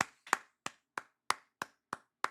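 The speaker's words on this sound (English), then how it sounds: "Round of applause." Eight separate, evenly spaced hand claps ring out sharply with short gaps between them, a sparse, slow clap rather than a crowd ovation, with no talking.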